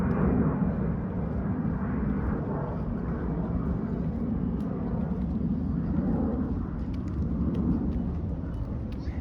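A steady low roar of an airplane passing overhead in Toronto's Thistletown neighbourhood fills the whole stretch, broad and rumbling, with no clear voices.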